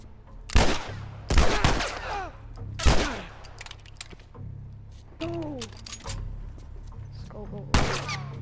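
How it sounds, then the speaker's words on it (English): Gunshots ring out in The Last of Us Remastered, several loud single blasts spread a second or two apart, each with a sharp onset and a decaying ring, mixed in with voices talking. "A shot."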